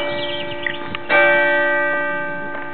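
A church bell ringing outdoors with a strong strike shortly after a softer one, its deep resonant hum sustaining and slowly fading, with faint lighter tones layered through the decay.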